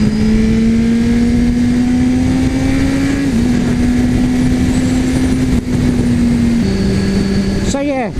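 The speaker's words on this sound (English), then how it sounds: "Interesting bike. A bit of acceleration." A motorcycle accelerates smoothly with a loud, close steady engine drone rising gradually in pitch, a brief gear-change dip midway, and a sharper rev at the end.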